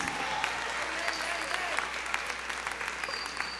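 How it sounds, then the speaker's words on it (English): Hundreds at a Nevis Reformation Party convention give delegates a round of applause; steady, dense clapping with scattered sharper claps, heard at moderate distance over a low hum. "Give them a round of applause"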